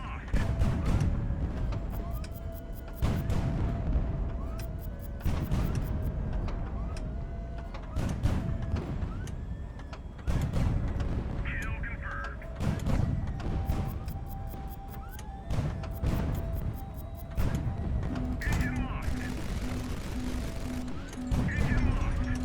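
Heavy booming hits and crashes from artillery striking a ship in the Highfleet game, recurring every few seconds in a loud battle din, with a voice speaking at times.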